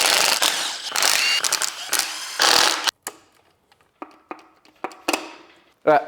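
Tools clatter and ratchet in short bursts while an oil pump comes off a BMW N55 engine being rebuilt for an F10, with loud metallic rattles first, then sparse clicks and taps close by, and a brief voice near the end.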